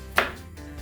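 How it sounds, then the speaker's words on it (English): A single crisp knife chop through scotch bonnet pepper on a board, close and clean, then quiet. "So here we have some scotch bonnet pepper. Let's chop that up."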